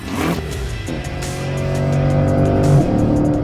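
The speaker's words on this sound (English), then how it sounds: "This is a 2023 C8 Corvette." A 2023 C8 Corvette at the National Corvette Museum, its engine revving up loud and close with a rising, sustained tone over a few seconds, no voices.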